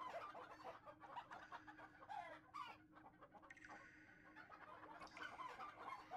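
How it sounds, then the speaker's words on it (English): Chickens clucking and calling close by, a busy overlapping chorus of short clucks and squawks running throughout over steady background noise. "Listen to them chickens."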